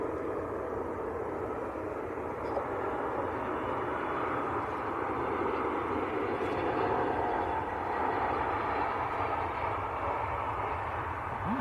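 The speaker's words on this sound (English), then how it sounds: "We've got Egypt Air just about to touch down as well." An EgyptAir airliner comes in to land at Manchester Airport, a broad continuous jet engine roar heard from a distance that holds steady and swells slightly throughout, with no voices.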